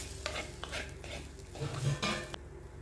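A spoon scrapes and clinks against a pan while okra sizzles steadily underneath, with intermittent stirring strokes close by.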